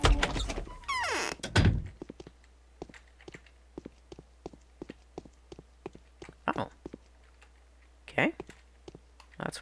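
Someone trying the front door in the game Pathologic, a heavy thunk and scrape followed by a run of sharp clicks and knocks at irregular intervals, fairly close.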